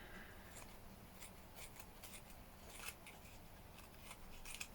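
Scissors cut paper at an angle for a Halloween junk journal, a series of faint snips and crisp rustles scattered over a few seconds, quiet with a hissy background.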